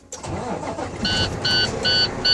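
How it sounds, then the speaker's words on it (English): A truck engine cranks and catches, then settles into a steady idle with a faint high whine, close by and fairly loud, no talking. "and then I fire up the engine."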